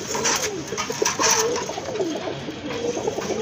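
Domestic pigeons, a pair of Maltese pigeons among them, coo in soft, repeated throaty murmurs at close range over a steady background hum, without any speech.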